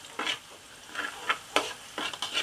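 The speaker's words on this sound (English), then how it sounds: "Saute the garlic" Garlic sautés in a pan, a quiet sizzle punctuated by several short scraping stirs of a spatula at an uneven rhythm, close by, with no one talking.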